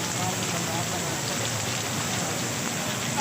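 Heavy rain falls on a rainy day in Karachi, a dense, unbroken hiss of drops on surfaces, loud and close, steady throughout with no pauses.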